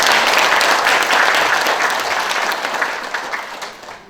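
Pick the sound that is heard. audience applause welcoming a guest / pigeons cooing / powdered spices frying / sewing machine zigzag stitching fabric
audience applause welcoming a guest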